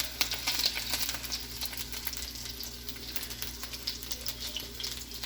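Chicken skin frying in hot oil for chicken inasal, a steady close sizzle with faint crackles and bubbling running the whole time, no voices.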